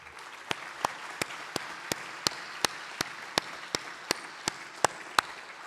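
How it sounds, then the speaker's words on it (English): Audience clapping at an awards banquet: sharp, evenly spaced claps ring out one after another in a steady rhythm over a soft, hissy bed of crowd noise, with no speech. "please let's have a round of applause for him"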